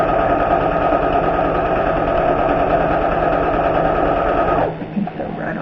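A sewing machine runs steadily and loud as it stitches a lined zippered pouch, a continuous close motor whir with rapid needle chatter, then stops abruptly near the end.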